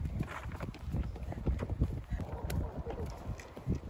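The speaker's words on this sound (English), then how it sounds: "This horse doesn't want others to eat, Hinji." A horse at a zoo in Mansfield, near Melbourne, clops and shuffles close by amid chewing and rustling as it is fed, with people talking throughout and light wind buffeting the microphone.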